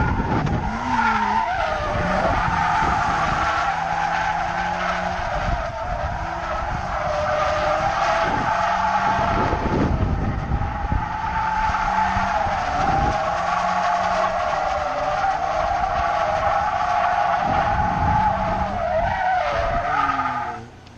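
Tires of a Mazda RX-8 screech in long, continuous skids while drifting, loud and close over the steady drone of the engine, with repeated rising squeals and no talk.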